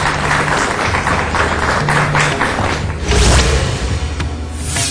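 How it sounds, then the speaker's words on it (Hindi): A studio audience applauds steadily to welcome a guest astrologer on a television astrology show, dense continuous clapping filling the room near and loud for the whole stretch. "जोरदार तालियों से स्वागत कीजिए गुरुदेव का"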